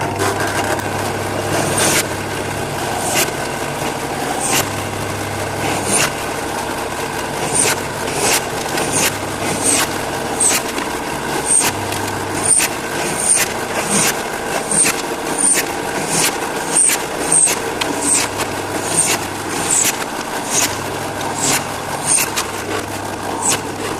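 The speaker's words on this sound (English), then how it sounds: "So now I'm going to drill some holes for the spot welds." A steady mechanical whine runs throughout, broken by regular short sharp clicks and bursts at a quick repeating rhythm, as a drill bores spot-weld holes in a Classic Mini van's rear valance body metal.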